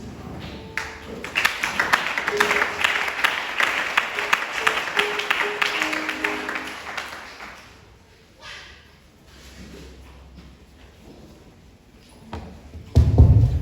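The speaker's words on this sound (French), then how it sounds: "Acclamons encore une fois pour le Seigneur Jésus." A congregation applauds at a Sunday church service, a dense and fairly loud burst of clapping that fills about seven seconds before fading to a quieter room with some voices.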